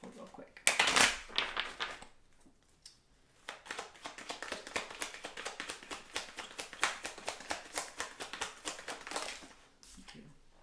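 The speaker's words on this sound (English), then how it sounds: "Let's do a shuffle real quick." A tarot deck is shuffled by hand, giving a soft, rapid run of papery taps and riffles, close but faint, after a few louder handling knocks at the start.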